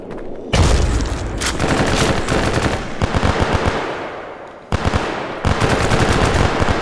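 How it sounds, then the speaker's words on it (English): A fully automatic machine gun rips through long, loud close-range bursts in a VR shooter, rapid rattling volleys broken by a couple of short pauses, with no talk over the firing. "I have a fully automatic machine gun."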